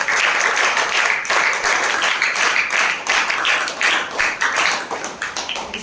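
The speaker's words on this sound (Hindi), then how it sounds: "भांति जोरदार तालियों के साथ" Loud, sustained applause from a room of class 8 students, dense clapping filling the space close by with no talk over it.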